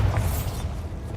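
A short, heavy boom from a Bombarda spell explosion in a Harry Potter video game, loud at the onset and then fading into a rumbling tail.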